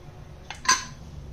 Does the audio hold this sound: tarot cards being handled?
no